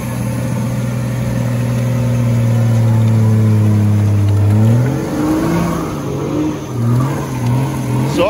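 An offroad Nissan Patrol fitted with a BMW M57 engine drones steadily up close, then revs up and down in several loud surges as it climbs.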